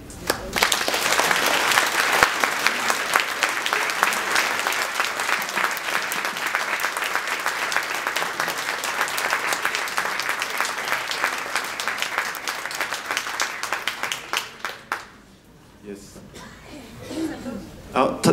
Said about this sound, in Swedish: En stor applåd till för att ni delade med er.